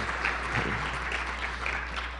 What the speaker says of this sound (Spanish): un fuerte aplauso a Kathleen